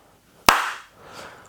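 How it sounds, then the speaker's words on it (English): One sharp hand clap, loud and close, ringing briefly into the room before fading, with a faint rustle after it. "I'm going to clap, by the way, just so you know. Just puts a spike in the audio."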